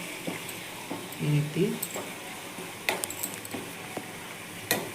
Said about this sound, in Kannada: ನಂತರ ಎಣ್ಣೆ ಚೆನ್ನಾಗಿ ಕುದೀತಾ ಇದೆ.